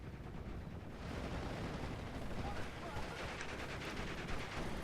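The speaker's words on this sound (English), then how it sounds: "that's 3 half-tracks and 3 Panzer Grenadier squads firing on it" Faint, steady small-arms and machine-gun fire from Panzer Grenadier squads and half-tracks in the WWII strategy game Steel Division: Normandy 44, heard as a distant continuous crackle with a voice talking over it.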